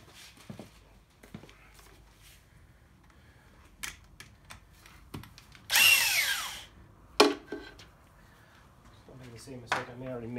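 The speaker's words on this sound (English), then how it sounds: "put the drill press in" A drill press bores into a part during a teardown of a 7.3 IDI diesel engine, giving a short loud whirring burst near the middle and a briefer one just after, among scattered clanks and faint low voices.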